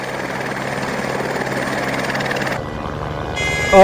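A tourist helicopter flies over snowy Gulmarg, its rotor and engine giving a steady, loud drone that shifts in tone near the end, where a few high whining tones rise above it.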